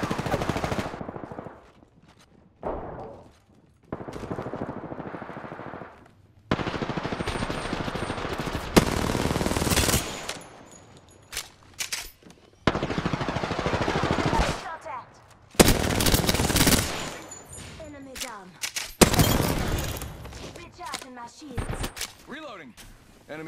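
Automatic and single gunfire from the video game Apex Legends crackles in loud repeated bursts across the clip, broken by short pauses, with a voice speaking between some of the volleys.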